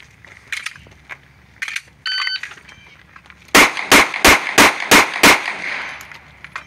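Six rapid gunshots in a practical shooting drill crack out in an even, fast string, loud and close, after a few faint shuffling sounds, with some room echo trailing off.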